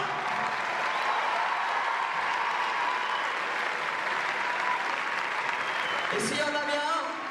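Sustained crowd applause rolls through the Grand Rex theatre, thick and even, with a brief spoken voice and a whoop cutting in near the end.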